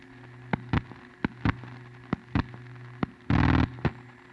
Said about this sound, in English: Stepping numbers, old dial phone